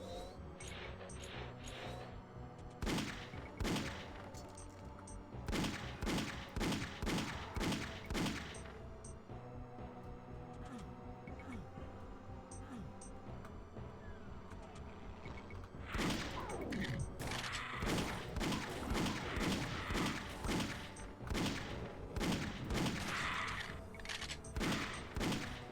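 Chaingun fire in Doom 2, rapid bursts of loud mechanical shots in repeated volleys separated by brief pauses, with crashes and thuds in between and no talking over it.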